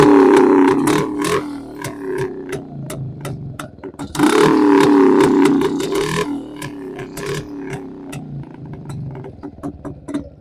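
Engine of a 1973 Yezdi Roadking motorcycle idling and revving close by, a throbbing two-stroke beat with two louder rev swells over rapid ticking exhaust pulses.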